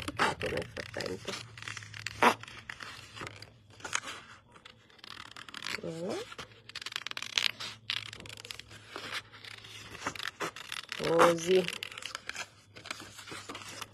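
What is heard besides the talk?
scissors cutting paper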